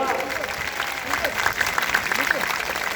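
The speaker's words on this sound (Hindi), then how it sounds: "जोरदार तालियों से स्वागत" A crowd at a Guru Ravidas temple claps steadily to welcome arriving guests, a dense wash of applause throughout, with a voice speaking over the top.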